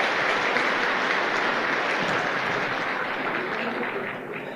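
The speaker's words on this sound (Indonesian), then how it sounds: "Oke, tepuk tangan buat yang baru-baru Bapak Ibu ya." Audience of men and women at a business meeting clapping for new members, a dense, sustained round of applause from a crowd that continues steadily and tapers slightly at the end.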